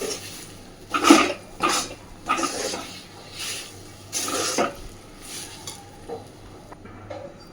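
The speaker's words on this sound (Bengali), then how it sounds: "এইভাবে গ্যাসের ফ্লেমটাকে মিডিয়াম টু লোতে রেখে একটু সময় নিয়ে ডালটাকে পুরো ভেজে রেডি করে নিতে হবে আগে" Ground lentil paste fries in a wok over a medium-low flame for dhokar dalna, with a faint sizzle under a series of scraping, clinking stirring strokes.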